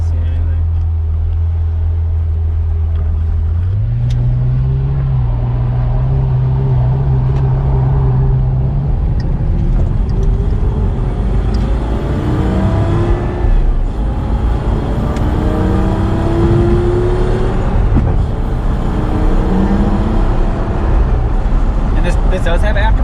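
A stock twin turbo Toyota Supra with an aftermarket exhaust and no catalytic converters drives along, its engine droning and rising in pitch as it accelerates, while people talk inside the car throughout.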